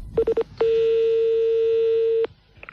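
A telephone number is dialed as a quick run of four short keypad beeps, followed by one long, steady electronic tone that cuts off abruptly. Nobody speaks.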